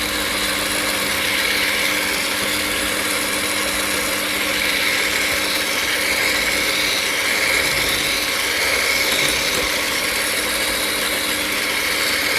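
An electric mixer beating pineapple upside-down cake batter with baking powder, a steady close whirring motor drone running unbroken and fairly loud throughout, with no talking.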